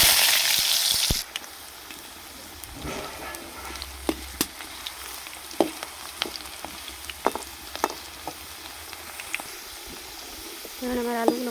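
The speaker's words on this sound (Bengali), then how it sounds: "এবার ওই তেলের মধ্যে আমি এই আলুগুলো ভেজে নেব।" Potatoes fry in hot oil in a pan, giving a steady soft sizzle with scattered pops and stirring clicks throughout, after a brief louder burst at the start.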